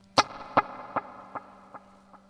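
Guitar through a Valeton GP200 with a dotted-eighth delay: a single plucked note followed by five evenly spaced repeats that fade steadily in loudness, heard alone with no talking.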